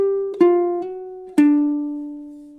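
A ukulele plays a blues ending phrase with a few plucked notes and two strummed chords that ring out and decay, close and clear with no talking.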